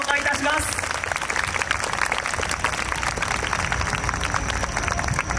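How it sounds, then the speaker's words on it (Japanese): Big crowd applause at the awards ceremony of the Koiya Festival 2022 finale, welcoming team representatives onto the stage; dense, steady clapping continues throughout, loud and close, with voices mixed in. "大きな拍手でお迎えください"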